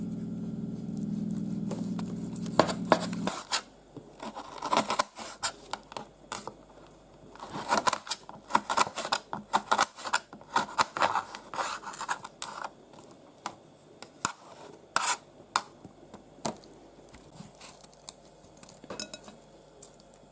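Knife cutting meat into chunks for shashlik skewers on a board, heard as close, irregular taps and clicks with scraping and faint clinks of kitchenware, after a brief low hum at the start; no talking.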